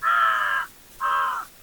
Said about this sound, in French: prenons ensemble, accompagnés des corbeaux,